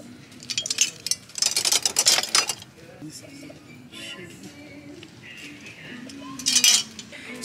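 Gold matte silverware clinks and rattles in short bursts as it is handled nearby, with quieter handling noise between.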